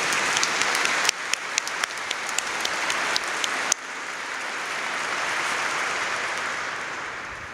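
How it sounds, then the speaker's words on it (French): A church congregation applauds its preachers after a sermon, dense steady clapping from a crowd that swells at once and carries on without talk. "une bonne main d'applaudissements pour nos prédicateurs d'aujourd'hui"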